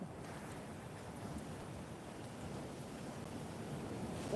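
Atlantic Ocean surf on the beach at Myrtle Beach, South Carolina: a steady, dense roar of breaking waves and wind noise across the whole clip, with no voices.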